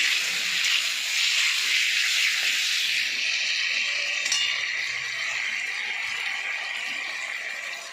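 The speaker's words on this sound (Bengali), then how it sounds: "আমার আলু ভালো করে কষে নিয়েছি, এবার আমি জল ঢেলে দেবো।" Water poured into a pan of frying potatoes, a loud steady sizzling hiss close by that holds for several seconds and only slightly eases toward the end, with no talking.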